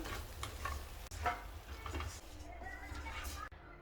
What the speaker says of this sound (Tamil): இது சிக்கன்லாம் நம்ம அந்த சாஸ் கூட நல்லா மிக்ஸ் பண்ணிக்கலாம்.